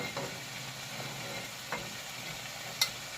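Vegetables tossed into a hot frying pan, giving a faint, steady sizzle with a few soft scraping stirs and one sharp clink near the end, close by with no talking.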